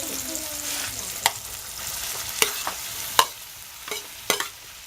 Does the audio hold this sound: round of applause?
no